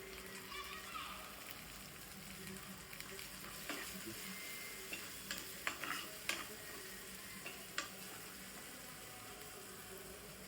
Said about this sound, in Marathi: थोडं परतवून घेऊया.